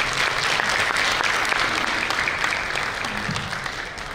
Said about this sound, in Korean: 다시 한번 오늘 좋은 강의 해주신 우리 미스터 바스에게 큰 박수 부탁드리겠습니다